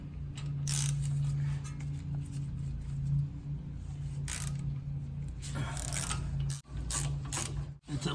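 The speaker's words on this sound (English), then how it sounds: "Basically we need to get these 4 bolts off the back side" Ratchet working on the rear hub bearing bolts of a 2015–19 Ford F-150 4WD, a steady low mechanical whir with bursts of quick clicking scattered through, close up with no talk.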